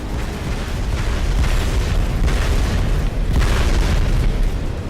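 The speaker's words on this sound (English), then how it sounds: "Epic explosion." An explosion in the motorbike video game Trials Fusion roars loud and sustained, a dense broadband blast with rolling waves of rumble and no talking over it.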